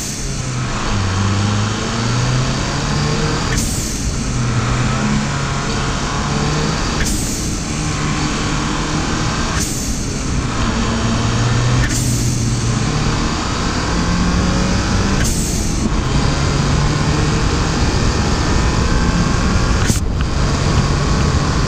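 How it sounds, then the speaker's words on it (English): A 2011 Mazdaspeed3 with a turbo blow off valve, loud engine rising through repeated hard pulls, each gear change marked by a sharp whooshing release, about seven in a steady cycle, close and continuous. "we're gonna do some pulls right now just so you guys can hear that blow off valve"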